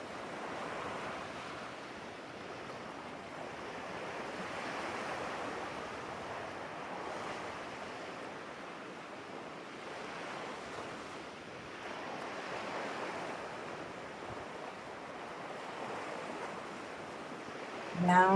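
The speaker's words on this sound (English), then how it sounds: "Now take the time to enjoy the ocean for a few minutes." Gentle ocean waves wash steadily onto a shore, rising and falling in slow swells, soft and continuous with a faint breeze and no voices.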